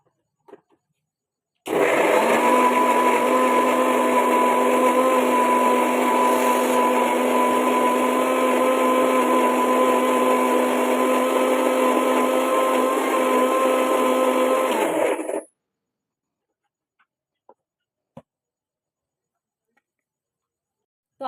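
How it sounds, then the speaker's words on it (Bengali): A kitchen mixer grinder blends carrot with a little water into a paste, running loud and steady for about fourteen seconds before cutting off, with a few faint knocks afterward. "তো চলো এবার এখানে মিক্সিতে কিন্তু পেস্ট করে নিতে হবে"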